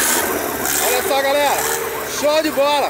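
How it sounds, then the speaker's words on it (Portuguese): A gaiola cross off-road buggy engine idles and rumbles steadily close by, mostly buried under someone talking loudly over it throughout. "Deixa eu filmar o motor aqui."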